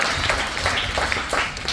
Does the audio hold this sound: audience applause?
yes